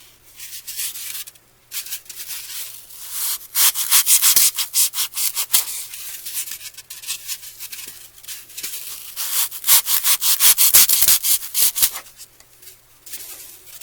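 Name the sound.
knife cutting floral foam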